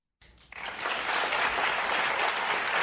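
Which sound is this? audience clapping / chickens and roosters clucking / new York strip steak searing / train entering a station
audience clapping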